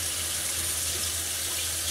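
Water pours steadily from a tap, a continuous hissing splash with no pauses, close and fairly quiet.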